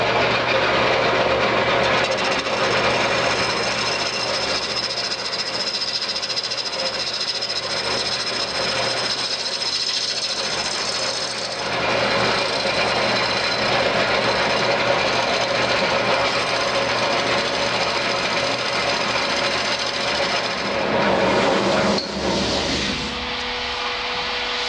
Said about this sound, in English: you take a really sharp bowl gouge and make a really light push cut from your tenon out to the edge